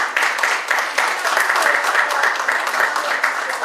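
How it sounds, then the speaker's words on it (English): An audience applauds an artist at a gallery talk, with brisk, fairly close clapping that holds steady throughout and faint voices mixed in. "I think we should give him a round of applause"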